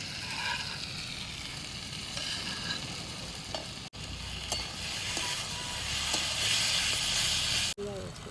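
Mustard-poppy seed paste sizzles in a pan for a katla fish curry with aubergine and potato, a loud steady frying hiss with occasional stirring clinks.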